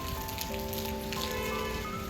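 Rainwater runs and splashes steadily into a container set out to collect it for watering plants, a continuous close patter and trickle during monsoon rain with no voices.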